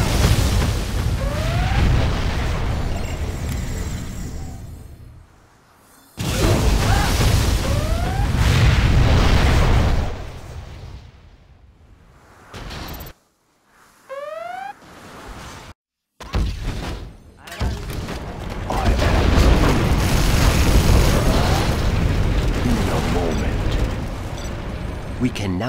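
Particle cannon strikes in C&C Generals Zero Hour (Apocalyptic mod) give loud, sustained explosive rumbles in several bursts with brief gaps between them, mixed with game sound effects and a voice announcing.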